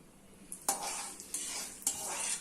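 Mustard seeds and asafoetida powder sputter in hot oil for a tomato pickle, a close steady sizzle broken by three sharp bursts of popping and stirring, with no voices.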